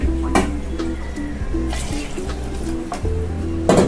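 Water is poured from a jar into a pot of sprouts chicken masala, a continuous liquid splashing and trickling up close over a low steady hum, with no talk.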